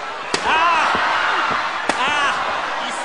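Steel chair strikes at a pro wrestling match: two sharp metallic slams about a second and a half apart, loud and close, over a roaring arena crowd.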